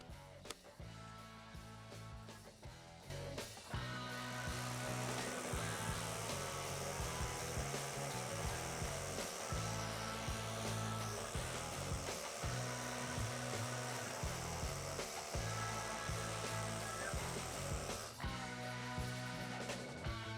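A cordless drill runs on a regular battery whose indicator flashes dead while drilling, its motor whirring loudly and steadily for most of the stretch after a brief start, with changes in pitch and load as it drills.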